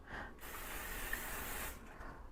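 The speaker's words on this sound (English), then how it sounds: "I'm just going to spray them with this spray." A short, steady hiss of an aerosol cooking spray, lasting over a second, close and fairly quiet.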